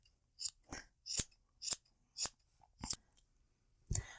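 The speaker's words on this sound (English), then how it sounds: "You're going to want a really sharp pair of scissors for this" Sharp scissors snip repeatedly through a fluffy yarn pom pom, about eight crisp close cuts in a fairly even rhythm against a quiet background.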